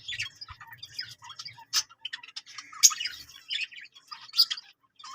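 Lovebirds in a cage give sharp, scratchy squawks and high chirps in quick irregular bursts, close and fairly loud, with faint low clatter underneath.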